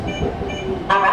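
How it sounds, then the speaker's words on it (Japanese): Tokyo Metro Tozai Line train pulling into Toyocho station, a steady rolling rumble with rail noise that brightens into a sharper metallic hiss near the end. "この電車は東葉高速線東葉勝田台行きです"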